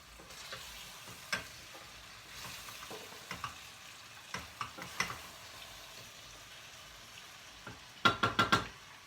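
Chopped celery and potato vegetables go into a hot pot for an olive-oil dish, giving a faint steady sizzle with scattered stirring clicks and a closing burst of four louder utensil knocks against the pan.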